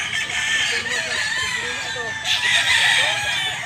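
A yellow-legged bullstag gamecock crows loudly and close by, one drawn-out crow with a second call rising near the end, set against faint background clucking and a distant voice.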